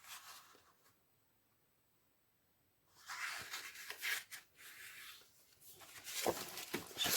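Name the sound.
folding a piece of card paper in half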